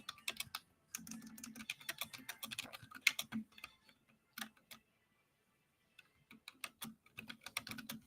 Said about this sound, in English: Good typing.